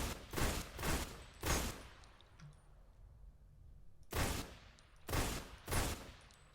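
Burst-fire rifle gunfire in the video game Ghost Recon Phantoms: loud, rapid bursts of shots come in two clusters, with a quiet pause between them.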